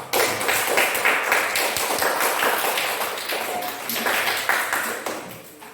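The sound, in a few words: schoolchildren clapping in a classroom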